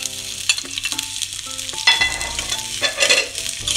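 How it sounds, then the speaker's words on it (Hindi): Chopped onions hit a little hot oil in a pan for mutton keema naan stuffing, giving a steady close sizzle with clinks and stirring scrapes throughout, no voices. "अब हम इसमें चॉप्ड ऑनियन डालेंगे।"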